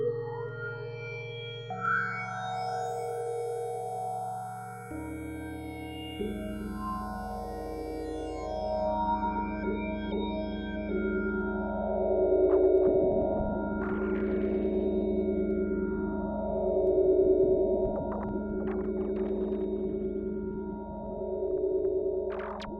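Korg MicroKorg synthesizer played through a band pass filter with stereo ping-pong delay, sweeping tones gliding up and down in repeated arcs, sustained notes layered over a low drone, fairly quiet and with no voices.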